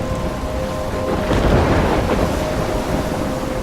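A thunderstorm in the video game Life is Strange: a dense, steady wash of rain and storm noise with a low rolling swell of thunder midway, with no voices.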